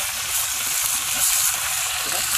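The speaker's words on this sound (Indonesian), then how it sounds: "Saya goreng sedikit-sedikit dulu." Village chicken pieces sizzle and fry steadily in hot oil in a pan, a continuous bright crackling hiss with no voices over it.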